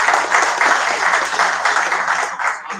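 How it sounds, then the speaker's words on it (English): A crowd at a hackathon awards session applauds loudly and steadily, a dense wash of clapping that holds for about three seconds before thinning at the end. "Let's give a round of applause."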